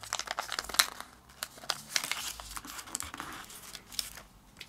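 Origami paper for a jumping jack-o-lantern is unfolded, squashed and folded, with close, crisp crinkles and rustles in irregular bursts.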